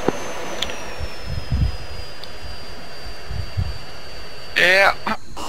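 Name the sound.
jet engine idling in a flight video game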